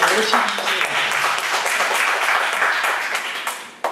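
An audience claps loudly and continuously for a doctor at a church gathering, a dense, sustained burst of applause that drops off sharply near the end.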